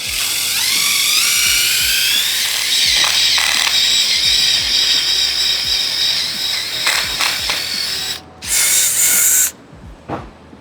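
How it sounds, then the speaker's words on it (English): A power drill with a 3/16 bit whines loudly and continuously drilling straight down into the bottom of a wooden pocket door, its pitch shifting as it bites, with a brief pause and a final high burst. "take a 3/16 drill bit, drill straight down your door"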